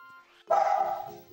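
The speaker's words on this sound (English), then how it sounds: "Ignore the barking, by the way." A dog gives one sharp, close bark after a quiet moment, followed by a trailing whine.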